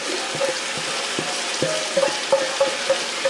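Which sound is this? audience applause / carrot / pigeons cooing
carrot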